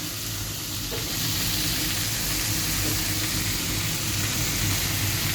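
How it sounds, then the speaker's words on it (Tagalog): Food sizzles and fries steadily in a kitchen pan, a loud, continuous close-up hiss with faint stirring, playing alone without talk. "Ayan na, niluluto ko na."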